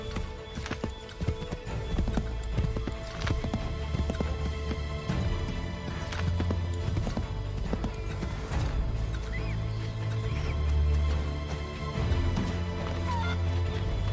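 Horse hooves clip-clopping in Assassin's Creed 3, an irregular run of hoof strikes close by with a whinny and background game ambience.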